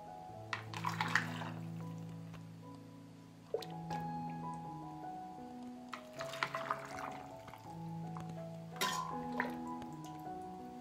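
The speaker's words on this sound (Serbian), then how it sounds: "i sada sipamo preliv" Brine poured into jars packed with bacon in a few short splashing bursts with drips in between, over quiet background music.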